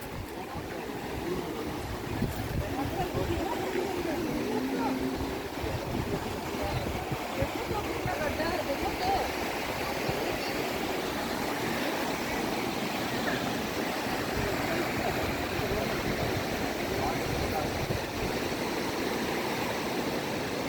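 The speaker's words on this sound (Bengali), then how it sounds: "নদীতে জল বয়ে যাচ্ছে।" River water flows near Jamuni in a continuous broadband rush, steady and fairly close, filling the whole stretch without pause; faint voices may sit beneath it.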